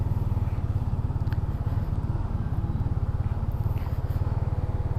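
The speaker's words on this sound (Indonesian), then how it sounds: "raungan khas satu silinder 250 itu cukup gahar ya, cukup perasa ngebasnya. Oke, ini sudah masuk gigi 1." A Benelli TNT 25 single-cylinder 250cc motorcycle idles in first gear with a deep, rapid, even thumping beat, loud and close.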